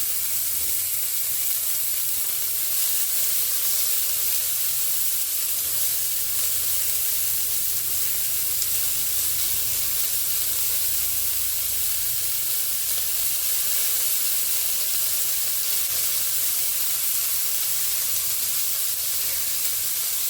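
Radish greens layered in a kadai over a low flame give a steady, even sizzle and hiss of steam that runs unbroken for about twenty seconds, with no voices.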